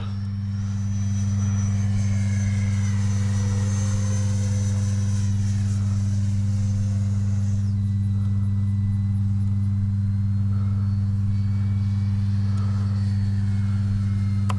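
A Freewing 70mm EDF Vulcan RC jet on a 6S setup flies past, its ducted fan giving a steady high whine that rises and falls over a strong, continuous low rumble of wind and hum.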